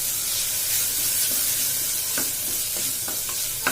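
Ginger garlic paste sizzles steadily in a hot pan while cooking coconut milk rice, a constant bright frying hiss with a few soft stirring clicks and scrapes.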